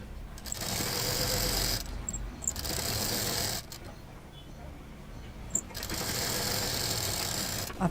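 A sewing machine stitches a shopping bag in three long bursts of steady whirring, with short pauses between runs while someone talks over the work.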